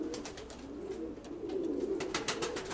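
Pigeons cooing nearby in a loft, soft repeated low coos with some rustling and faint chirps in the background.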